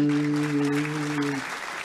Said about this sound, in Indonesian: ada tepuk tangan segala